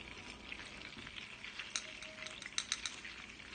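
Food fries in a pan at an Italian home-cooking session, a steady, fairly quiet sizzle with a few sharper pops and crackles near the end and no talking.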